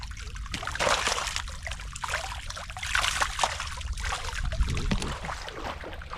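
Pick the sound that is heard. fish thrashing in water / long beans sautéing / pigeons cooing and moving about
fish thrashing in water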